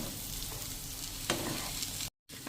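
Potatoes being stirred together with spices in a hot pan, a steady soft sizzle with one brief louder scrape, then a short cut to silence near the end.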